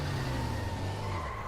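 A car drives in the zombie game Dying Light, a brief steady engine drone with a low rumble and tyre noise, loud and close, no talk.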